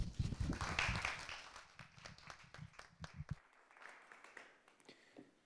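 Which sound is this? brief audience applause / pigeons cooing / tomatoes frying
brief audience applause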